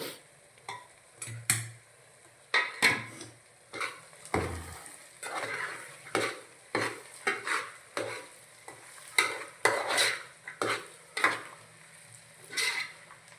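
A spoon stirs coriander-cumin powder into a pigeon pea curry, the scraping strokes coming in a steady repeated rhythm over a soft sizzle, close and fairly loud with no talking.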